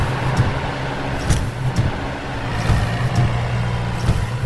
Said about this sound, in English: It is a concrete mixer truck.